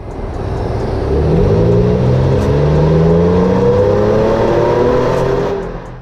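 A 2022 Nissan Frontier Pro4X with its 3.8-liter V6 pulls hard under acceleration, engine note rising steadily through the gears, loud and close, then easing off at the end.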